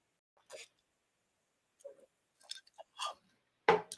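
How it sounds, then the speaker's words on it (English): Someone slurps a seltzer drink in a few short, wet, close-up bursts separated by silence, with the last gulp the loudest. "Sorry for all the slurping noises if you can hear them over the internet."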